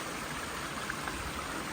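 Water spills down a series of garden pond waterfalls, a continuous, even rushing and splashing wash heard close up with no voices.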